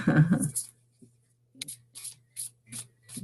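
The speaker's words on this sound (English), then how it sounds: "So I'm shuffling the Archangel power cards." Archangel power oracle cards shuffled by hand, a string of short crisp papery riffles arriving in regular bursts over a low steady hum, after a brief opening bit of speech.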